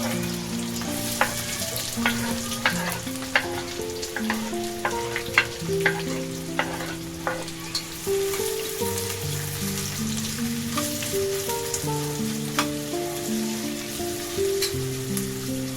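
Chopped onion fries in a pan with butter, a loud steady sizzle and crackle throughout, punctuated by stirring scrapes, under a backdrop of sustained music, with no talking.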